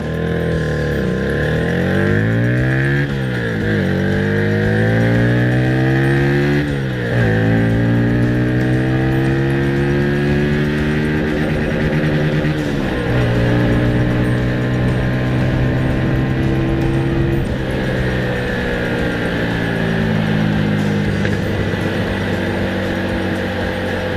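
An FKM Victorino 250i motorcycle engine revs up repeatedly, pitch rising in steps as it shifts through the gears, then dropping and climbing again during acceleration runs, loud and close with no talking.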